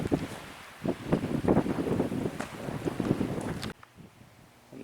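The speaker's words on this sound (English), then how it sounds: "Wind is blowing like crazy right now." Strong wind gusts roar and buffet the microphone in the Arizona desert, a loud continuous rumble with surging bursts that drops off abruptly near the end; no talking.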